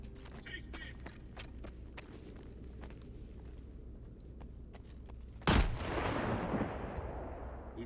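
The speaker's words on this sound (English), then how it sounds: "Look out! Grenade!" A grenade blows up during a firefight in the STALKER 2 video game: a sharp, loud blast with a long rumbling tail follows several seconds of scattered gunfire and movement, with voices shouting beneath.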